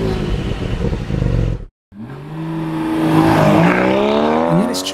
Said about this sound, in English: an exhaust that sounds brutal in a way only a naturally aspirated 6-cylinder engine